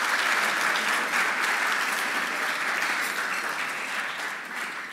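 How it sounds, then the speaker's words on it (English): Audience applause at the America First Energy Conference 2018, a dense, sustained clapping from a large crowd that holds steady and fades slightly toward the end, with no speech over it. "Let's have a round of applause for all those people that helped make this happen."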